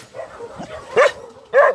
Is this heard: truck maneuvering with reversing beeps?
no